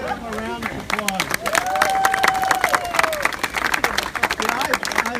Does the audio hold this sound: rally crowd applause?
yes